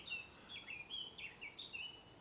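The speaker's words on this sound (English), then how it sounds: "on the other side of the wood, almost challenging each other with a very similar song, is a garden warbler" A garden warbler sings in a wood at a distance, a soft, continuous, warbling run of quick high notes over a quiet outdoor background.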